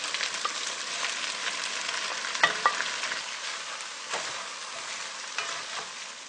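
Beef browns in a stew pot with a steady, close frying sizzle, broken by a few sharp crackles and pops.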